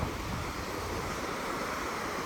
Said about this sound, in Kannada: ಅಲೆಗಳ ಶಬ್ದ